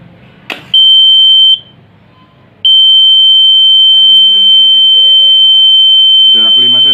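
Buzzer alarm on a microcontroller-based fire detector set off by a candle flame: a loud, steady high-pitched tone, briefly sounding, stopping, then resuming continuously, with a person speaking underneath it near the end.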